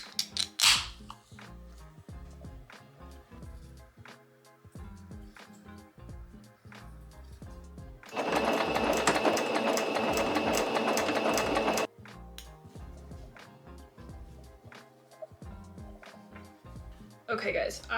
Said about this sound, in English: So we're just going to hop right into a little sewing montage.